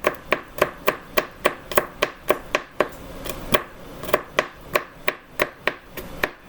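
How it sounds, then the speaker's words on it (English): Chicken sausage meat is chopped in a pan with a utensil, producing a steady series of about twenty sharp, close tapping strikes at a regular quick rhythm, with no talking. "once I start chopping the meat up"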